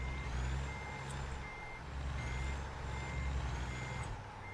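Repeated reversing beeps from a truck in American Truck Simulator, evenly spaced tones over a steady low engine rumble, fairly loud and alone without talk.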